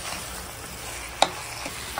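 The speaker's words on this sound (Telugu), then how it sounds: "బోటి మగ్గుతుంది." Goat tripe simmers in oil in a pan with a steady soft sizzle and one brief sharp click partway through.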